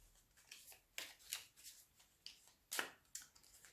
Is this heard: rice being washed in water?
no